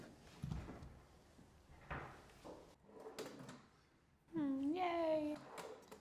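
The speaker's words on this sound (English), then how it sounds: "Put the drawer back in." Wooden drawer slid back into a newly built piece of furniture, giving a few soft scraping and knocking bumps, followed by a bright squeak or voice near the end.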